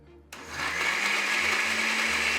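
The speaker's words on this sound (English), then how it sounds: "throw it into a blender, and add some vinegar" A kitchen blender whirs on abruptly, pureeing hot peppers with vinegar, a loud, steady high-pitched motor whine with a slight churning hum that holds for a couple of seconds.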